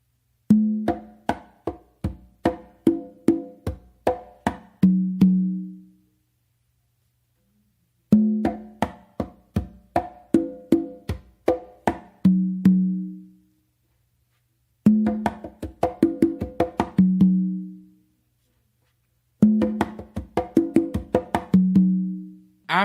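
Conga drums played in four repeated phrases, crisp sharp slaps mixed with ringing open tones that sustain at the end of each pattern, separated by short pauses.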